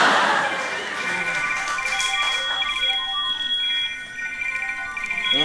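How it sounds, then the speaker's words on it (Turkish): A mobile phone ringtone rings on a moving bus, a repeating electronic melody playing steadily throughout at fairly loud level, with a passenger's voice speaking over it at the start. "O nasıl telefon sesi ya?"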